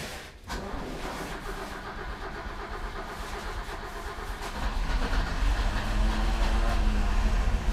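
A Mercedes-Benz car engine, nicknamed the Batman Benz, starts after sitting unused for over two months, settling into a loud, steady idle that swells near the end; no one talks.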